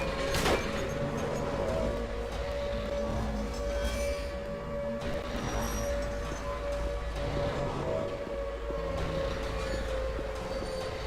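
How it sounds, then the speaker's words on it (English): A siren wails steadily in the background of a PS2 video game boss fight, sustained and loud over a dense rumbling game soundtrack with no talking. "And you can hear the siren in the background."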